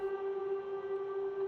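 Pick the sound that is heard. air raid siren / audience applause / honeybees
air raid siren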